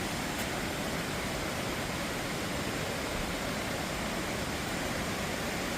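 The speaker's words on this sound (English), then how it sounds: "And there's a pretty waterfall." A waterfall in a deep-snow forest pours with a steady, dense broadband rush that fills the whole stretch evenly, loud and unbroken, with no voices.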